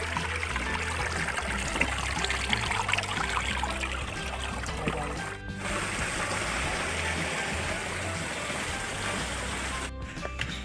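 Water trickling and splashing near a waterfall on an outdoor trip in Dhenkanal, a steady, close, continuous wash of flowing water with no pauses.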